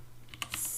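A few quick, faint keystrokes on a computer keyboard tap out a file name, sounding close and light with no talking.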